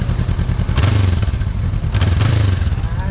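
A Honda CB500F motorcycle engine idles up close with a steady low rumble, then is blipped twice in quick bursts, each rev rising briefly before dropping back to idle.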